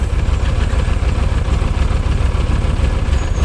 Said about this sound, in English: the engine is almost about to stall.